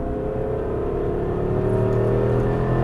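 An Aston Martin V8 Vantage accelerates on a race track, its engine drone climbing steadily in pitch and growing slightly louder, heard from inside the car.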